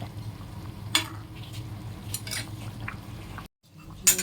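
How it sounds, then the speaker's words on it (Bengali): Potatoes mashed with a spoon into simmering gravy for vegetarian aloo dum, a few soft scraping clinks of the spoon against the pan over a steady low bubbling sizzle, with a brief drop to near silence before one last scrape. "দু একটা আলু এমনি চামচ দিয়ে ঘেঁটে দিলে একটু গ্রেভিটা ভালো লাগে"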